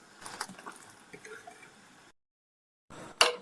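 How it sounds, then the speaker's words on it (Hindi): Ice-cold fridge water is poured into Kashmiri chai as it cooks, with soft drips, gurgles and liquid splashes, a brief pause, then a sharper splash at the end, close and fairly quiet. "उसके बाद इसके अंदर ठंडा फ्रिज का पानी, बर्फ वाला, इसके अंदर मैं डालूंगी।"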